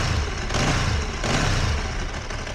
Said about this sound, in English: it's surprisingly quiet for a Ducati engine